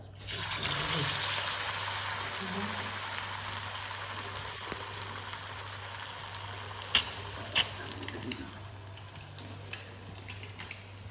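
Snack dropped into hot oil in a pan on a gas stove for kili koodu, a steady bright sizzle swelling at the start, with a few light clinks of a utensil later.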